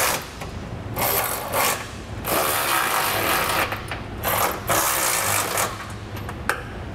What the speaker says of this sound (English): we're gonna operate the other side with a 19 millimeter socket